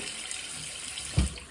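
Three cups of hot water pour out for French beef dip, a soft, hissing, watery rush that ends in a short, louder splash and then dies away.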